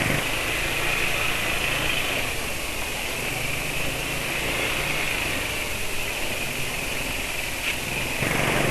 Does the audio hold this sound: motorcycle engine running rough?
yes